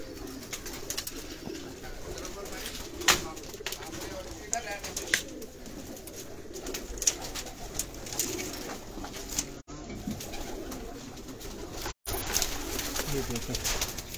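Pigeons kept by a Lahore breeder coo softly and steadily throughout, a low murmuring flock sound with occasional wing flutters and clicks, while someone talks over it at close range.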